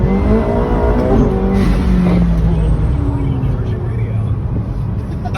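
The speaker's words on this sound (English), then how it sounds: "This Trackhawk actually has the Demon's gearbox, so the shifts are lightning quick, they sound amazing" A Jeep Trackhawk with a Demon gearbox revs hard and loud under acceleration, its engine note rising and dropping through quick gear shifts, with a voice speaking over the roar.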